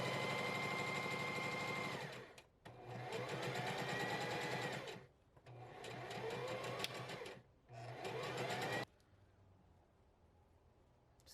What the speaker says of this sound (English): Sewing on the Singer Heavy Duty 4452 is pretty good.